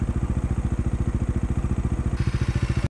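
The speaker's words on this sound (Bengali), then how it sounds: "বাইক বন্ধ হয়ে গেলে আর স্টার্ট হচ্ছে না" A Bajaj Dominar 400 motorcycle engine chugs in cold mountain air on a road trip, a close, fast, even thumping pulse that runs steadily for about three seconds before cutting out abruptly.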